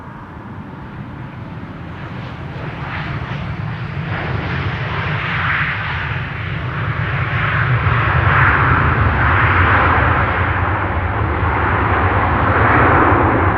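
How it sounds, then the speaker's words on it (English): A Ryanair Boeing 737-800 arriving from Dublin lands at Amsterdam Schiphol, its jet engines making a broad, distant roar that slowly swells and holds steady, with no voices. "Ryanair arriving from Dublin, Ireland, 737-800."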